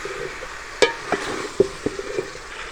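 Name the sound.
stirring mixed vegetables with potatoes in a pot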